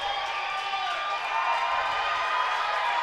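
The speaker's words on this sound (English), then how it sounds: "Large and loud crowd here at the Xfinity Roller Sports Arena." A large, loud crowd cheers at a roller speed skating race in the Xfinity Roller Sports Arena. There is a continuous roar with clapping and shouting, steady throughout, heard from within the stands.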